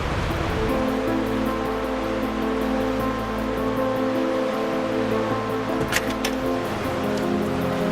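Floodwater from a breached creek rushes across a road, a steady loud roar of churning water close by, with a vehicle engine hum underneath and a few faint clicks.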